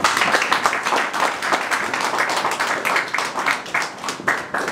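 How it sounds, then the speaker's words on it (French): An audience applauds at a commemoration ceremony for victims of the Kabila regime, with dense, sustained clapping from many hands throughout. "Je voudrais qu'on applaudisse encore très fort."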